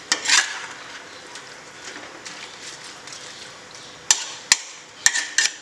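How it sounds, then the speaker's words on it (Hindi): Onions browning in a pan for Jammu-style Dogra chicken curry give a steady low sizzle, broken by a few sharp spoon-on-pan clinks and scraping stirs near the end. "आप देख रहे हैं कि हमारे प्याज जो हैं बढ़िया फ्राई हो गए हैं।"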